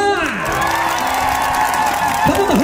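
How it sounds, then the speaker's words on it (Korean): A concert-style audience at a live show claps and cheers loudly and continuously, a dense crowd roar with whoops, while a voice speaks over it. "잘 들리시죠? 박수 한 번!"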